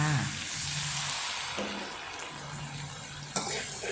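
Spaghetti is stir-fried with shrimp in a pan for a drunken-style noodle dish, giving a soft, steady sizzle with occasional utensil scrapes and a light clink, all fairly quiet.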